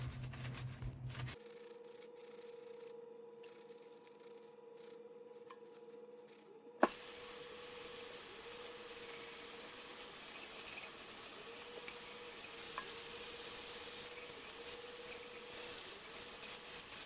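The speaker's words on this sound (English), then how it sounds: "I'm just putting some dish soap on them so I can scrub out all of the bleach and everything" Dish-soaped shoelaces are scrubbed and rinsed: a quiet stretch with faint rubbing and a sharp click gives way to a steady, continuous rushing hiss of running water close by.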